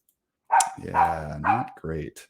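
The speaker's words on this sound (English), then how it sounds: "apologies for the dog outside of the door." A dog barking behind a door, three or four loud, close yelps in quick succession, mixed with a person speaking.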